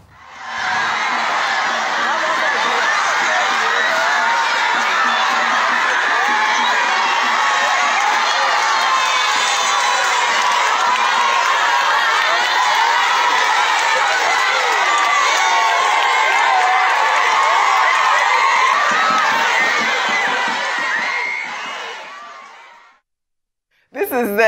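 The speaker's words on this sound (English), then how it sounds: "The surprise move left an atmosphere full of joy as the students cheerfully applauded their" A crowd of school students cheers, shouts and applauds their principal, a loud, continuous roar of many young voices with whoops, steady for over twenty seconds before cutting off abruptly.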